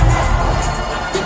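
Huge concert crowd in Argentina cheering and singing at a concert, a loud, dense, continuous roar.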